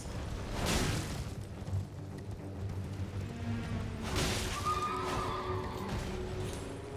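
A Knight's Cavalry horse in a video game neighs in loud whinnies, first near the start and again around the middle, over a busy game soundscape with hoofbeats and combat noise.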